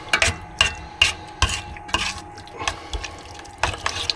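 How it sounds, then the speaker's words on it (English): A spoon stirs a curry base of garlic-ginger paste, yoghurt, chilli powder and salt in a pan in a camper van, making close, wet scraping strokes in a loose irregular rhythm, each stroke a short squelchy swish. "I'm just going to give that a good stir"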